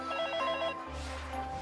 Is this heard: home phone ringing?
yes